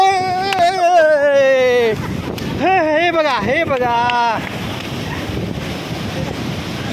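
Sea waves surging into homes at Pajpandhari, a coastal village, roll as a loud continuous wash of water and wind, with excited talk over the first half and surf and wind carrying on alone afterward.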